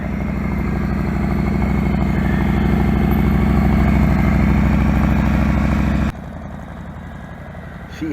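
A low rider motorcycle engine runs steadily at a loud, close idle-like rumble, then drops abruptly to a quieter, more distant drone near the end.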